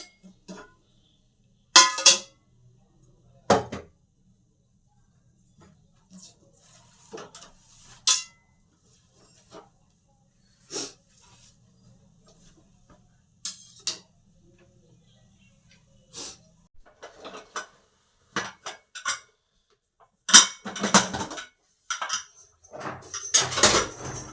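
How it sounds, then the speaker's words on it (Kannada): Tomatoes and chillies being mashed in a pot for palak spinach sambar, heard as scattered clanks and scrapes of utensil against metal, in bursts with quiet gaps, busier near the end. "ಟೊಮೊಟೊ ಮೆಣಸಿನ್ಕಾಯಿ ಎಲ್ಲ ಸ್ವಲ್ಪ ನೀಟಾಗಿ ಸ್ಮ್ಯಾಶ್ ಮಾಡ್ಕೊಳ್ಳಿ."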